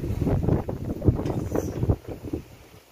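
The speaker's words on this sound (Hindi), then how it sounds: "इतनी तेजाई हवा चल रही है ना" Strong wind blows at a plant nursery in hard, buffeting gusts that roar against the microphone, rising and falling in uneven surges and fading toward the end, with no talk over them.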